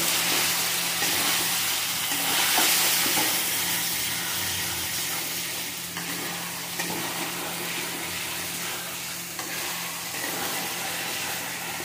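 Masala for egg curry cooking in a pan, a steady dense frying sizzle with occasional stirring scrapes, close and continuous throughout without any talk.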